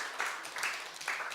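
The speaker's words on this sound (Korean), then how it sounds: "우리 박수로 환영하겠습니다." A church congregation claps at a Sunday afternoon service, a brief, faint patter of applause in short uneven bursts.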